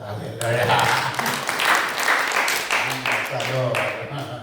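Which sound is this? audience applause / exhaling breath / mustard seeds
audience applause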